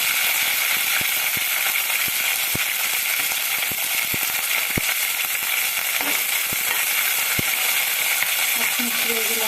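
Oil tempering for a raw-banana (kaya) chutney sizzles steadily in a pan, a loud, even frying hiss with scattered sharp crackles and pops throughout.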